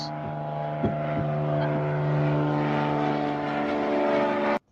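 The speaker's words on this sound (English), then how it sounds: "They're out flying the Cessna 182 from FMS." A small electric RC model Cessna 182 from FMS flies overhead, its steady whining motor hum holding a constant tone for several seconds before cutting off abruptly.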